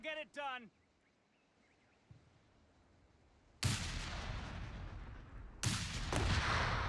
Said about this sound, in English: You had to really pay attention to the mortar noise if you wanted to dodge it.